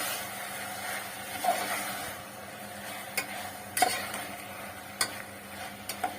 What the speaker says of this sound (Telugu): ఇప్పుడు దీనంతటిని ఒకసారి ఇలా కలుపుకొని ఫ్రై చేసుకోవాలి.